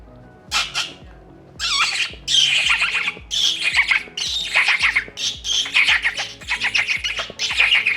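A man imitates sparrow calls with his voice: a rapid series of loud, close chirps and squawks in short, uneven bursts, with no other sound behind them.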